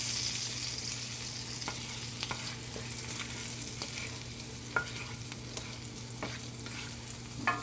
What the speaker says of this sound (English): so we have the garlic getting brown